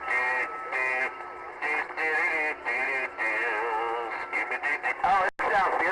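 A voice coming over a CB radio, with a compressed, narrow transmission sound, choppy bursts and a crackle near the end.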